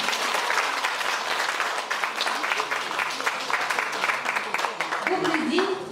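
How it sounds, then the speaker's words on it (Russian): Sustained audience applause fills a gallery hall after a national orchestra's performance, loud and dense throughout, with faint voices murmuring beneath near the end. "Аплодисменты!"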